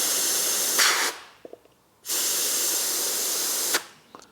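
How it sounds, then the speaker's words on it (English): Compressed air blasts through a pushrod from a TVR's Ford Essex V6 engine, two loud sustained hissing bursts with a short pause and faint clicks between them. "at last I will blow it through with some compressed air"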